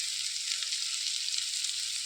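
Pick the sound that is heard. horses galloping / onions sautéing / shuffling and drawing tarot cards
onions sautéing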